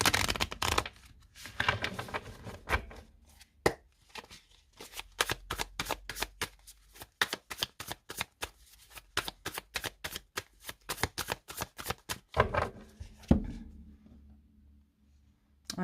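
Tarot cards shuffled and then cut, close by: a long run of crisp, rapid riffling snaps that speed into a dense flutter before a couple of final taps, with no voices.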